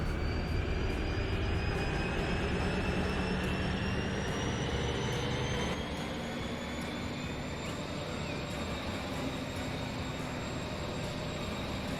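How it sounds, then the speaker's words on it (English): A train in the video game Transport Fever 2 rumbles steadily with a continuous high whine, droning without a break as it pulls away from a station. "So as soon as this train leaves, which it's doing now"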